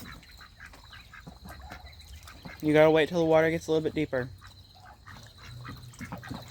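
Farm ducks on a pond give a loud burst of raspy quacks in quick succession, close by, between stretches of someone talking nearby and quieter background noise.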